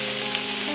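Green peas tipped into a hot frying pan for a mixed vegetable curry with eggplant, giving a loud, steady, close sizzle and frying hiss that fills the short moment without pause.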